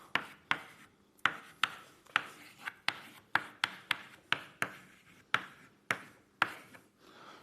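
Chalk or marker strokes tap and scrape across a board in a quick, irregular series of about fifteen sharp, close strokes, with no talk.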